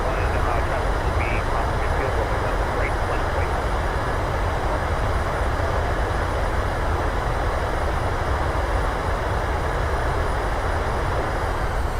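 Airliner rolling out after a firm landing at Las Vegas with thrust reversers deployed, in Microsoft Flight Simulator: a loud, steady, broadband engine roar that holds without letup, with a voice talking over it.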